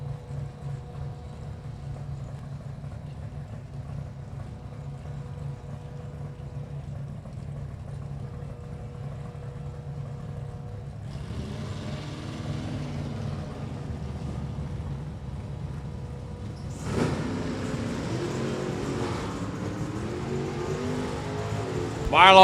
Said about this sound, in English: A beautiful 57 Chevy Bel Air working its way down track.